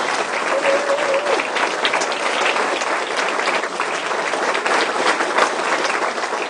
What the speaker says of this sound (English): could you please stand up so we can applaud you?